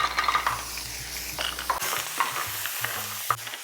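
Clams tipped into a pan of browning garlic and olive oil, a busy sizzle with clattering shells and metallic stirring knocks against the pan, close up and without talk.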